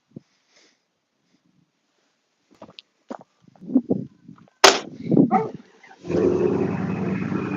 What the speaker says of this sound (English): Ooh, exhaust sounds nice.